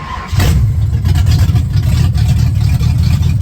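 A 1970 Ford Falcon's 5.0 V8 engine catches and roars up, then holds a loud, rough, rumbling idle with slight revs close by.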